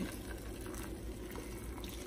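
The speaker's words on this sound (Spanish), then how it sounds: "yo ya tengo el vinagre hirviendo con agua" Vinegar and water boiling in a pot, a soft continuous bubbling and watery hiss heard close up, steady and fairly faint, with no voices.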